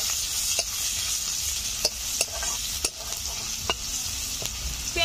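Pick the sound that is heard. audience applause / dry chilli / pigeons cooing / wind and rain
dry chilli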